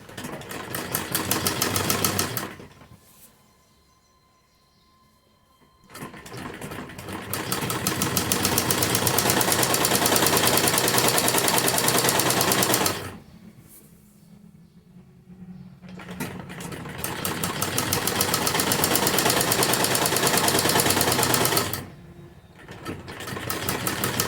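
Domestic sewing machine stitching a sleeve seam on a kurti, running in long loud steady bursts with short pauses between passes, no voices.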